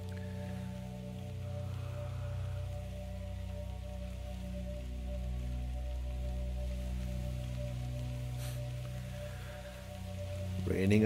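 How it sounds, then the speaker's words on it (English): Rain patters steadily in the video game That Dragon, Cancer, a soft continuous hiss beneath low sustained musical tones, with a brief rustle near the end. "Raining outside?"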